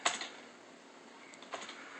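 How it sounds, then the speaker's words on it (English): A few faint, quick key clicks in two short bursts, typing on an external keyboard connected to an Android tablet, with a quiet pause in between. "We're just going to test the typing to prove that it does work."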